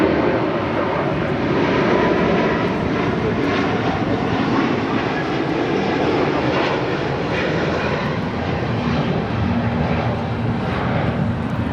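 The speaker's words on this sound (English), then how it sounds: "282 Speedbird 8 Whiskey taking off to London Heathrow on the A350 1000" A British Airways Airbus A350-1000 takes off, its engines giving a broad, steady roar that stays loud and even throughout, heard outdoors from some distance with no talk.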